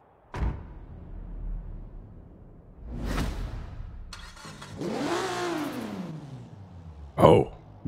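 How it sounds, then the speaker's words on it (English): A car engine revving in the racing game Forza Horizon 4, with several separate swells and whooshes that rise and fall, including one long sweeping rev and a sharp final burst, all heard without talk. "Let's hear that engine."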